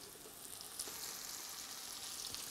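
Sizzling in a pan as ingredients sauté for braised venison deer shanks, a steady close hiss of frying with faint crackles throughout and no talking.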